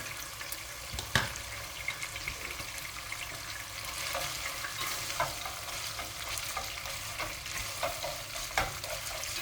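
Butter sizzles in a pan of browning minced meat for a yogurt soup, a soft steady crackle with a few sharp spoon knocks against the pan.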